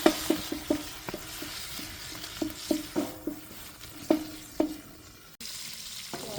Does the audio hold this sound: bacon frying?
yes